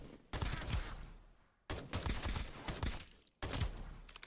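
Gunfire from a gun in the video game Escape from Duckov, three rapid bursts of close, loud shots, each burst lasting over a second and separated by brief pauses.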